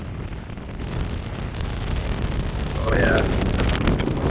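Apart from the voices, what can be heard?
strong burst of wind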